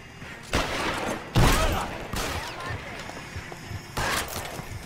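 Gunshots in L.A. Noire: a few loud, separate blasts ring out at spaced intervals, one especially heavy and booming, with fainter movement and clatter between them.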